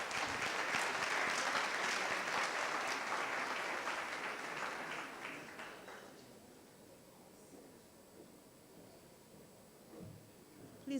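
An audience at a legal debate session applauds, loud sustained clapping for about six seconds that then fades to scattered claps and quiet room noise.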